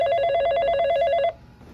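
A telephone ringing for an incoming call, a steady electronic warbling ring that sounds loud and close for over a second, then cuts off abruptly into quiet.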